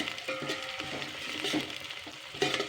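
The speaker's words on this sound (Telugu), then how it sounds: "మంచిగా ఫ్రై చేసుకోవాలి." Chopped onion and broken dried red chillies fry in hot oil with a steady crackling sizzle, stirred now and then with soft scraping strokes, close and fairly quiet.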